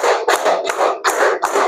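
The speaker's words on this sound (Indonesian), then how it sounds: "Kita kasih tepuk 1, 2, 3, 4, dan 5." A group claps in unison with a steady beat, about four loud, full bursts of clapping in quick succession.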